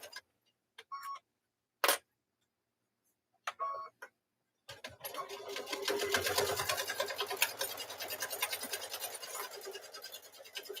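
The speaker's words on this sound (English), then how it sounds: "I'm going to do a back stitch just to make sure it stays" Sewing machine back stitching a quarter-inch seam on a quilt block: a few short separate bursts, then a steady run of rapid mechanical stitching, close and fairly loud.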